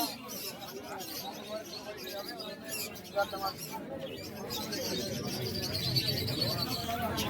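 Pigeons at a village market pigeon sale, soft cooing mixed into a dense crowd din with people talking throughout.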